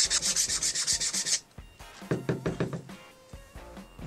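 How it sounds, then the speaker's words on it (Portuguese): Sandpaper rubbed along the corner of a wooden piece to flatten the edge for a blade, a close, steady run of quick rasping strokes, then a pause and a few shorter scrubbing passes with light knocks. "Ele é ótimo também para começar a lixar os cantos da madeira para fazer o fio de corte da"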